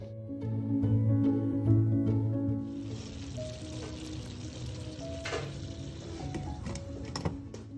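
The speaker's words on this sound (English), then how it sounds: "As you can see, it's boiling in there." Crawfish étouffée bubbling covered in a pot, a soft steady simmer with scattered pops and ticks. A low humming drone fills the first few seconds before the quieter bubbling carries on alone.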